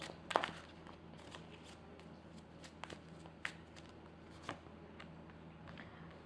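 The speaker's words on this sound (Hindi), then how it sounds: "now I'm pulling card for you" Tarot cards are shuffled and drawn by hand, soft riffling flutters and scattered light taps and slides, quiet and close, with brief snaps spread through the stretch.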